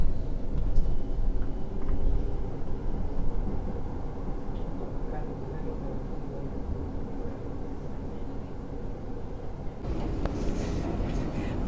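Steady low rumble of a tram in motion in Helsinki, heard from inside, with rattling and a brief brighter clatter near the end.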